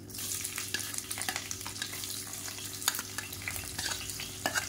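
Long-sliced medium-size big onions frying in a pan with oil for a crab fry, a steady sizzle under a low hum with frequent scraping stir strokes, close and moderately loud, no talking.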